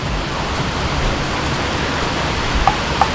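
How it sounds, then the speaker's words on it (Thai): Heavy rain pours steadily at Phu Thap Boek, a dense constant hiss that fills the scene, with a couple of faint drip-like ticks near the end. "ก็คือบรรยากาศฝนตก ของภูทับเบิกครับ"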